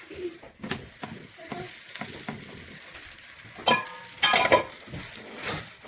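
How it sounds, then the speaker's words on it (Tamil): Onion roti fries in oil on a pan in a Jaffna-style kitchen, giving a soft, steady sizzle broken by a few sharp scraping and clattering bursts up close. "மேலுக்கும் கொஞ்சம் எண்ணெய் விட்டுட்டு லைட்டாக விட்டுட்டு நாங்கள் திருப்பி விட வேணும்"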